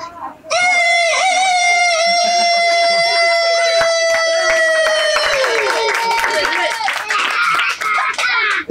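A man mimics a rooster crowing with his voice, one long loud rising-and-held crow that breaks into a rough, crackling tail as a crowd reacts with clapping and cheers toward the end.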